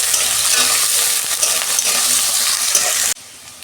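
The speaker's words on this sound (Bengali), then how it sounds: "তেল গরম হয়ে গেছে, আলুটা ভেজে নিচ্ছি।" Potatoes fry in hot oil for a home-style vegetarian dish, a loud, steady sizzling crackle with a few stirring scrapes, cutting off abruptly near the end to leave quieter room tone.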